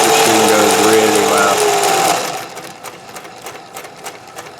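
A sewing machine fitted with a custom speed reducer runs loud and fast with a dense mechanical whir, then drops off into quieter, sparse clicking and faint taps near the end.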